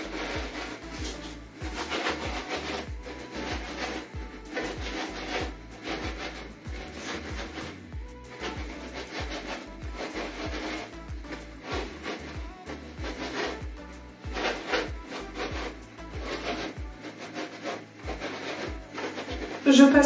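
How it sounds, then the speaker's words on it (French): A small brush rubs hair product into hair in quick, repeated strokes, a close, soft scratchy rasp that runs steadily and continuously, with no one speaking. "je vais prendre la petite brosse et je vais venir masser pour que ça pénètre bien"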